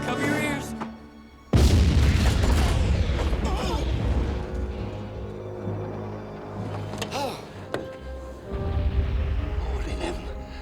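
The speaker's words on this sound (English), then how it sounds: "Kanone fertig machen!" A cannon fires close by aboard a moving train, a sudden loud boom that hits hard and then rumbles and rings on, with shouting voices and a second burst of loud clatter later.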